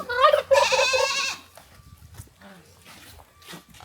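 A goat on a rural Tanzanian village farm gives a couple of loud, close, wavering bleats, then quieter background sounds with a little talk.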